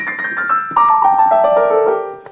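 Piano notes step downward one after another, each lightly sustained with a little sustain pedal so they blend softly into the next before fading.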